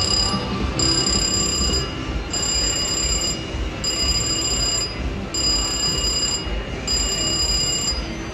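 Bright electronic ringing chimes from a Cherry Riches slot machine win repeat in steady bursts about every 1.5 seconds over a dense, loud clatter of casino machine noise.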